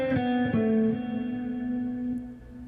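A distorted electric guitar rings out a sustained note after a couple of quick attacks, fading slowly and alone.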